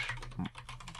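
Soft quick keystrokes on a computer keyboard while writing Odoo code, a few close light clicks within about a second.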